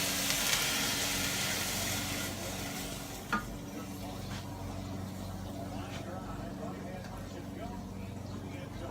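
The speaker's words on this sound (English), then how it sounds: "I'm going to put a little of the cabbage into the frying pan" Cabbage fries in a home frying pan, a steady sizzling hiss with a sharp clink of a spoon against the pan and faint stirring scrapes, while someone talks over it.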